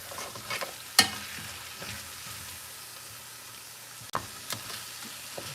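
Beef neck bones searing in a hot pan, a steady soft sizzle with a couple of sharp clanks and scrapes as pieces are moved, no talking.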